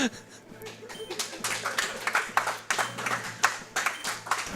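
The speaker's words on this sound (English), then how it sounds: "I don't know why they're clapping for that" Audience applause at a Pokemon Fire Red speedrun event: scattered bursts of clapping rise and fall in uneven waves, moderately loud, with a low steady hum from the game underneath.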